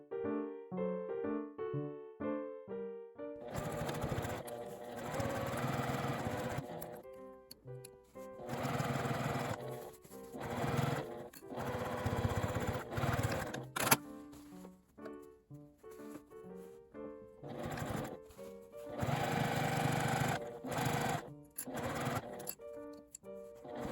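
A sewing machine stitches IKEA fabric for a lined tote bag in loud, rapid bursts of whirring and clatter, stopping and starting repeatedly with short pauses between runs.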